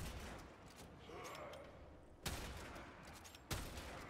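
Video-game gunfire during a shooter mission: two sharp broadband shots stand out over a steady dense background of game noise and action, spaced about a second apart, with no voice over them.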